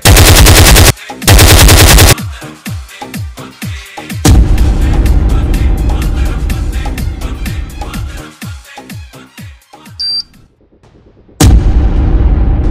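Loud bursts of machine-gun fire and single gunshots rattle through a war scene, with sustained volleys, sharp isolated cracks and a brief lull before another heavy burst.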